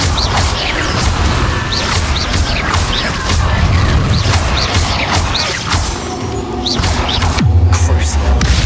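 A Confringo explosion spell bursts in Hogwarts Legacy amid dense, loud game combat, with repeated booms, crashes and whooshes layered over a constant rumbling mix.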